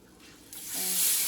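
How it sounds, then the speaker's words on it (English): Beef broth is poured into a pot for smothered oxtails, a brief splashing pour that starts softly and swells to a steady hiss, close by. "So I'm just going to get my beef broth here. And you just want to add a little at a time."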